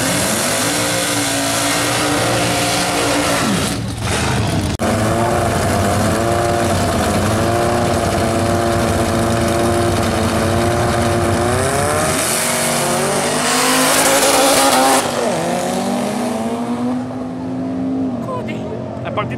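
A Willys Coupé race car with a freshly fitted engine climbs a hill-climb course, its engine note rising and falling through gear changes, loud and close, with commentary talking over it.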